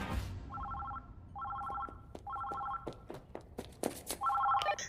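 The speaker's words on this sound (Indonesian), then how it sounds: "Ketika mau mulai, telepon pun berbunyi sana." A telephone rings in a film, with four bursts of rapid bell trills separated by pauses and footsteps and knocks in between.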